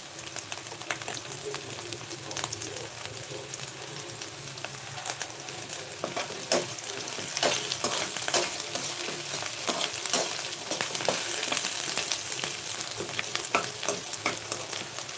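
Vegetables with green peas and chickpeas frying in a pan over raised heat for upma, a steady, close sizzle that grows louder midway, with occasional stirring clicks and no talk.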